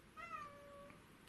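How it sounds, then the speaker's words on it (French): A cat gives one faint, drawn-out meow with a rising then falling tone, heard at a distance against a quiet background hiss. "vous avez le bonjour de chat"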